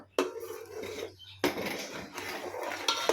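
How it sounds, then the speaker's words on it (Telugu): Jaggery syrup being stirred in a pot while flour is added after the stove is switched off: scraping and knocking of a spoon against the vessel in a few bursts, fairly close and moderately quiet. "మా మదర్ తిప్పుతూ ఉంటే పాకాన్ని నేను ఇలా పిండి వేస్తున్నాను."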